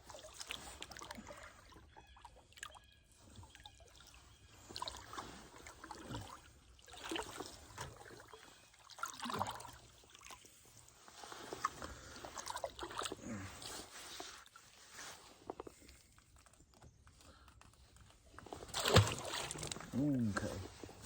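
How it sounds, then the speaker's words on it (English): A boat is paddled across a catfishing hole, with soft intermittent splashes and water trickles from the paddle strokes, close but faint, mixed with quiet movement noises. "Now let me paddle back over here to my deep part of my hole"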